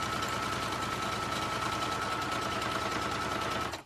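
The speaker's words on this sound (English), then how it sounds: "I'm sewing, trying to sew very close to the inside" A sewing machine runs continuously while stitching a skirt hem, a fast, even mechanical whir and rapid needle chatter held close and steady for a few seconds before stopping abruptly.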